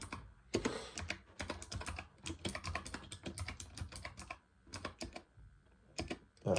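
Rapid, uneven bursts of typing on a computer keyboard, with dense runs of close key clicks separated by short pauses, heard alone at a fairly quiet level.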